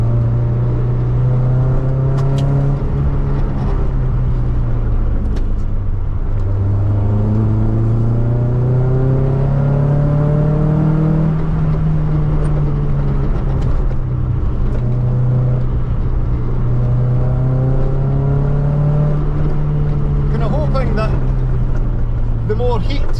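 Vauxhall Nova 1600 engine revving while driving, rising and falling in pitch through several long pulls, steady and loud inside the car, with someone talking over it.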